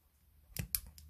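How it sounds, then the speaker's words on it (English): Scissors snip through a strand of crochet yarn in two or three quick, close, quiet cuts, with no voices. "I'm just going to cut this bit of yarn off because I don't need it anymore."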